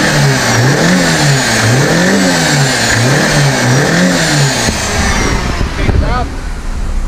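A BMW car engine runs loud and close, revving in a rhythmic rise-and-fall pattern for several seconds before the sound breaks up and drops off near the end.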